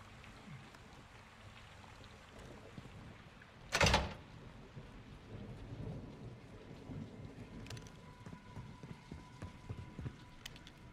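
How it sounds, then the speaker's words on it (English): Heavy rain hisses steadily through a Call of Duty Modern Warfare 2 campaign mission, broken by one loud, sharp crack near the start, with faint tonal game sounds later. "It's raining fucking hard."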